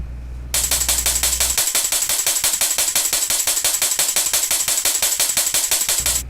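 A produced drum beat with kick, snare and cymbals plays loud and close, with a steady, fast, driving rhythm of dense, bright hits, and the low end drops away for most of the loop.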